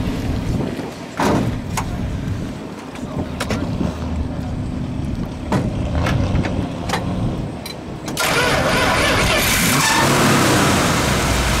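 A 1973 Plymouth Cuda 340 V8 engine rumbles at idle close by, with a few blips of the throttle, then a strong rev swells into a loud sustained roar near the end.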